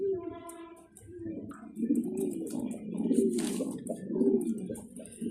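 Soft, low blue bar French Mundiyan pigeons cooing in overlapping rolling calls, close by, with faint rustling and a brief burst of noise partway through.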